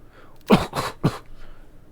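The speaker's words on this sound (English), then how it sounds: "he coughs up the remaining water in his lungs" A young man coughs up water from his lungs after nearly drowning: three sharp, close, wet coughs in quick succession, with a quiet breath afterward.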